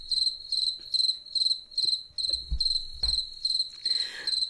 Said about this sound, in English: It is crickets.